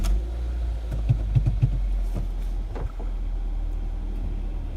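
A warmed-up car engine with its check engine light on runs at a steady low idle, a constant deep hum with a few faint clicks and taps near the start.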